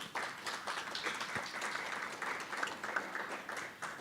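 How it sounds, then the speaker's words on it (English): Applause from an audience at a business organization's gathering, a moderate, steady patter of clapping with slight swells, heard at some distance and fairly quiet. "all members should give your organization a round of applause. Put your hands together for it"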